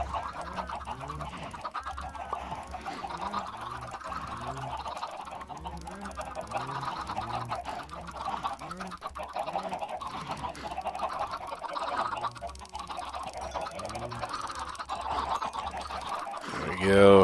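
Chickens cluck and squawk repeatedly in a Minecraft video game, their short, fowl-like calls coming in a busy, overlapping stream while a person talks over them.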